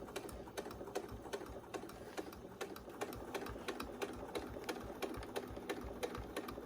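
A domestic sewing machine runs steadily, stitching along the edge of a fabric hot pad with a fast, even mechanical rattle at close range and no talking.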